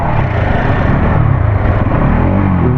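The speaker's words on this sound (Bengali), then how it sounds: "ইঞ্জিনের সাউন্ড এরকম আসছে।" Up close, a Bajaj Pulsar NS 200 motorcycle engine gives a loud, sustained roar, with the pitch swelling slightly as it revs, and no voices over it.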